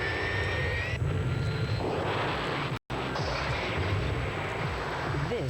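A loud, steady roar of a large airplane engine fills the whole stretch, with a brief drop to silence midway before the roar resumes.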